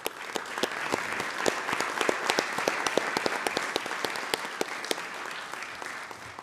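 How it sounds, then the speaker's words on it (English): Audience at a city council meeting applauding for Micah, a light scattering of sharp individual claps from a small room of people, steady throughout. "give a round of applause"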